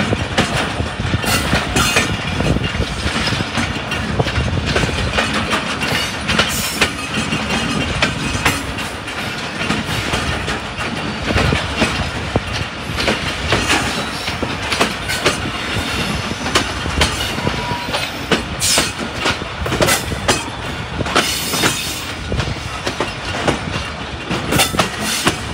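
The 246dn Malkwal Express running along the line in Pakistan, heard from aboard with a continuous loud rumble, rhythmic clickety-clack of wheels over rail joints and occasional squeals, steady throughout.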